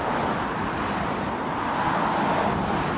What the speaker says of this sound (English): The traffic is very noisy